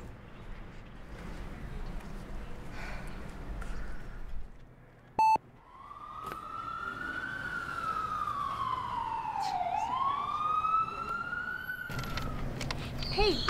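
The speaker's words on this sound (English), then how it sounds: "That siren that was just here a split second ago." A siren wails nearby, its pitch sweeping down and back up in a long arc over background traffic, after a short beep and a brief lull.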